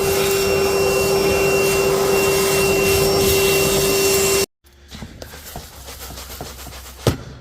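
A portable Milwaukee vacuum runs loud and steady with a constant whine for several seconds, then cuts off abruptly, leaving quieter rustling and a sharp clunk.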